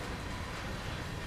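A train rolls steadily in the game Train Sim World 2, with a constant low rumble and faint rail noise that holds evenly throughout, heard alone without voices.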